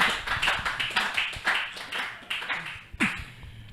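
Audience applause from a small crowd at a Congolese TV talk show, heard as a steady run of close, individual claps for several seconds with no talk over it.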